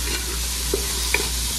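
Garlic and onion frying in a pan, a low steady sizzle with a couple of faint clinks or stirring taps, no talking.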